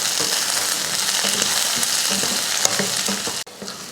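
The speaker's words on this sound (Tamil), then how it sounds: "இறக்குறதுக்கு ஒரு 2 நிமிஷத்துக்கு முன்னாடி தக்காளி வதக்கிட்டு இறக்கிக்கலாம்" Tomatoes sauté with onion, garlic and coconut in a hot pan for a country chicken curry, giving a dense, loud, continuous sizzle with light stirring scrapes. The sizzle briefly cuts out near the end.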